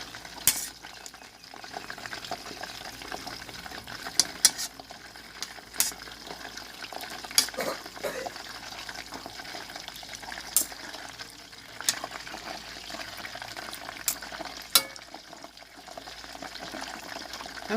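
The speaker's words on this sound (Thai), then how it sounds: "เนี่ยทอดไฟอ่อน ๆ ค่ะ ทอดหมูกรอบนี่ใส่เวลาเป็นชั่วโมงเลยค่ะ" Crispy pork belly fries in oil over low heat, giving a quiet, steady sizzle with scattered soft pops and occasional utensil clinks, faint and without talking.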